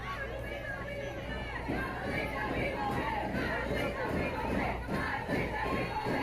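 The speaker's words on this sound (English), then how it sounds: "You can hear the crowd. They are willing them in." A large softball crowd at a championship game roars and cheers continuously, a dense sustained wall of shouting voices rising slightly in intensity, loud and enveloping.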